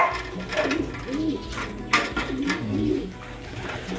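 A racing pigeon coos repeatedly inside a loft, with soft throaty rolling calls coming in two clusters, close by, over a faint room murmur and occasional light clatter.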